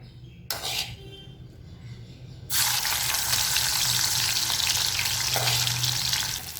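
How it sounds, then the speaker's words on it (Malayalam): Steamed ivy gourd (kovakka) dropped into hot oil over a high flame, a loud steady sizzle rising sharply partway through and holding, after quieter clinks at the start. "ഇനി നമ്മുടെ എണ്ണയിലേക്ക് നമ്മൾ നേരത്തെ ഒന്ന് സ്റ്റീം ചെയ്ത് വെച്ച കോവയ്ക്ക ഉണ്ടല്ലോ, അതിട്ട് കൊടുക്കാം"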